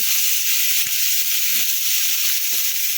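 Cauliflower frying in mustard oil in a wok gives a steady, close hiss and sizzle, broken by a few soft pops and stirring scrapes.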